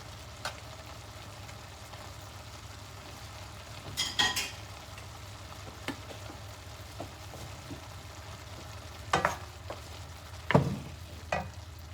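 Fried rice frying in a pan, with a steady low sizzle underneath and occasional sharp clinks and scrapes from stirring with a utensil, fairly faint and close, without voices.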